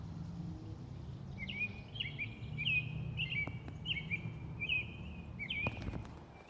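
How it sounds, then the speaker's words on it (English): A bird repeats a short bright chirping phrase about six times at a steady pace, clear against quiet morning garden background noise. "I love being out here in the morning and hear the birds"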